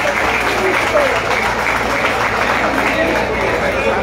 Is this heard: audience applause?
yes